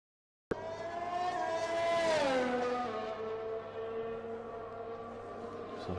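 A McLaren Formula 1 car in the F1 2021 racing game on the Japan circuit, its high engine whine sweeping up and then down in pitch as it passes close by, loud and steady with no talk.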